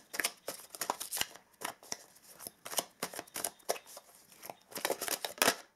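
Tarot cards being shuffled during a monthly reading, a run of quick crisp riffling and flicking bursts with short pauses, fairly close and soft, with no talk over them.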